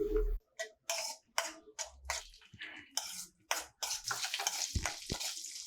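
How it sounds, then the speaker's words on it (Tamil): Coconut pieces fry in ghee for a millet sweet pongal, giving bursts of sizzle and scraping stir strokes that come and go in uneven clusters, close and moderately loud, with no talking. "தேங்காய் பார்த்தீங்கன்னா லைட்டாக ப்ரௌன் கலர் ஆகட்டும், அது வரைக்கும் வறுத்துக்கலாம்"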